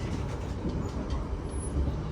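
Long-distance trains running side by side on a double track in Indonesia, a steady loud rumble of wheels and carriages close by, with no clear breaks.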